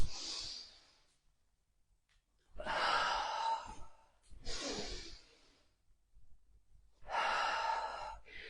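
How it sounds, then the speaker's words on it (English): Slow, audible breaths in and out during an upper-body strength workout with weights, three long airy exhalations separated by quiet pauses, close to the microphone. "use that breath in as we go up, out as we come down"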